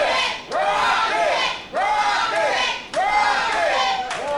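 Crowd at a PWA wrestling show chanting loudly in three repeated rising-and-falling rhythmic waves, a dense arena roar of many voices filling the space.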